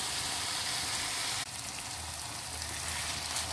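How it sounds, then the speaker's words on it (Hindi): Masala frying in a pan for fish karahi, a steady loud sizzle filling the clip, with a brief break partway through before the crackling resumes. "मसाला हमारा अच्छा सा भुनने हो रहा है"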